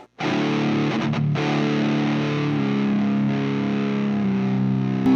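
An electric guitar tuned down a whole step, played through an Ibanez PT-5 distortion pedal, rings out in a loud, sustained, saturated chord after a brief silent start, with a short choke near the beginning and no voices.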